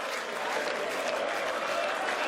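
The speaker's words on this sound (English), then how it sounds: "Crowds getting into full voice." A darts arena crowd at the European Darts Championship cheers and applauds in a dense, steady roar, loud and continuous throughout with no individual voices standing out.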